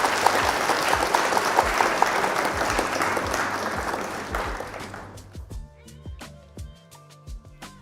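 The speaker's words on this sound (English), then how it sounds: "Round of applause for opponents." An audience at a live Flesh and Blood trading card game match applauds the opponents: a dense burst of clapping that thins out into scattered individual claps.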